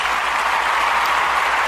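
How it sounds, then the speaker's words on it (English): An audience at a poetry performance claps as a poet comes to the stage, producing a dense, continuous burst of applause that holds steady and close throughout. "give her a round of applause"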